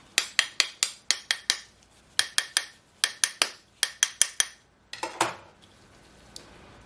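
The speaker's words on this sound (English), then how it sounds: "I'm just going to use a knife, kind of tap it, and this will just help it release from the mold" A knife taps a plastic bath bomb mold for raspberry lemonade bath bombs in quick bursts of sharp, close clicks, a few strikes per group with short pauses between, then a scraping rattle as the piece loosens.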